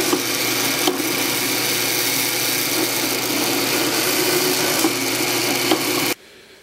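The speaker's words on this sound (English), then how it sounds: "So I'm now going to drill out these holes in the tenon" A power drill bores strain relief holes through a wooden tenon for a wedged mortise and tenon joint, a loud, steady whirring grind that runs continuously, then cuts off abruptly near the end.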